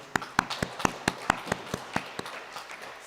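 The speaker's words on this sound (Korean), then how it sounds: "우리 환영의 박수 한번 하겠습니다" At a Korean church service in Berlin, the congregation claps in welcome, about a dozen crisp, evenly spaced claps in a steady rhythm that fades slightly toward the end.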